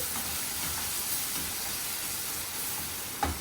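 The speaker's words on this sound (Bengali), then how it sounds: "রসুনটাকে একটু তেলের সাথে একটু ভেজে নিচ্ছি" Garlic paste frying in oil in a home kitchen pan gives a steady, moderately loud sizzle and hiss that holds throughout, with a brief clatter near the end and no talking.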